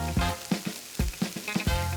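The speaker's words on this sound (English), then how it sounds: "Braising starts with a nice sear. So you hear that sizzling." Short ribs searing in a hot pan for braising, a loud close sizzle with crackling pops and bursts of spattering fat recurring every fraction of a second, no voices.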